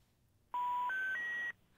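Three rising electronic beep tones in quick succession, a clean, loud phone service-termination signal starting after a short silence and cutting off abruptly after about a second.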